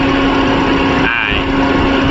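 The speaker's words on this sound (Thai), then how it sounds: "เครื่องยนต์ก็เดินนิ่งๆเดินเรียบๆแบบนี้" Toyota Vios 1.5 J 2017 engine idles steadily up close, a loud, even hum with a constant drone and no stumbles, heard alone without talk.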